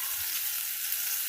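Chopped garlic sizzles in ghee for mushroom rice, a steady close hiss of frying with no talking, lasting about a second.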